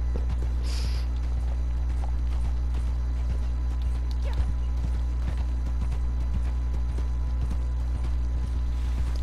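Horse hooves clip-clop steadily in Red Dead Redemption 2 as a rugged all-terrain horse descends a slope near water, with a regular, close walking rhythm over constant game ambience and low background hum.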